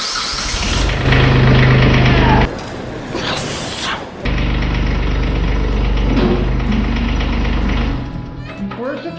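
Kubota tractor with a 3.9 V6 engine starting from cold, cranking and catching into a loud, steady low idle with rough shifts in tone, close up, with no talk over it.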